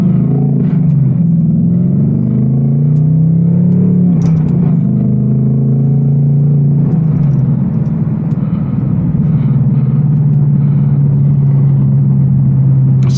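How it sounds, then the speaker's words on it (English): An 810 hp RTR Mustang GT's exhaust revs close by, giving a deep, continuous rumble that swells and settles across the clip, with faint crackling kickback within the drone. "kickback on that exhaust."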